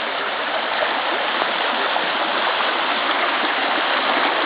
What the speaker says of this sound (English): when I tell people it rains and our driveway turns into a creek